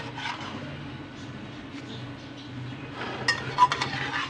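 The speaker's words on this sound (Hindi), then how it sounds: "हम चावल मिक्स हो रहे हैं।" Rice is gently mixed in a metal pot, soft scraping gives way to a few sharper clinks of the spoon against the rim toward the end, close but fairly quiet over a low steady hum.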